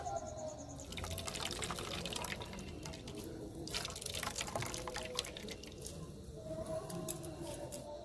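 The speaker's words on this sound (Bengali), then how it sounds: "পালং শাক আমি এই দিকে থেতো করে নিয়ে নিদলে রসটা বার করে নেব" Spinach leaves are crushed and squeezed by hand to press out their juice, giving a close, wet squelching with drips and trickles of liquid throughout and no speech.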